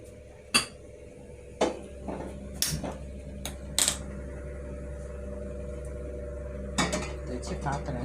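A metal cooking pot is set down and handled on a stove while preparing fish curry, giving several sharp clanks and clinks at irregular intervals over a low steady hum.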